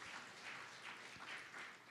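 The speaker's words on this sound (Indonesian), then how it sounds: "Ayo beri tepuk tangan yang meriah bagi Tuhan Yesus." A church congregation gives sustained applause, a faint, steady wash of many hands clapping together with no breaks.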